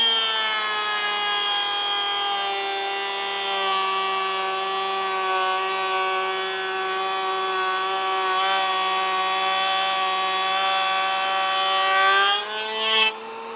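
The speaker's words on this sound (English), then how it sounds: "I'm fixing to put the dado cuts in the end of the rails" A power tool cutting dadoes into the ends of cabinet door rails whines as one loud, sustained tonal scream for about twelve seconds, then winds down abruptly.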